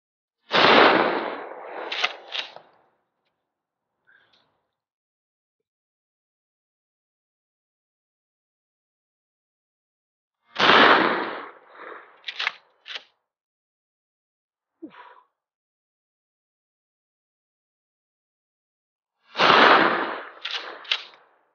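Gunshots from a first-time shooter firing a rifle, three loud sharp reports spaced about ten seconds apart, each followed by quick clacks of the action being worked, with silence between.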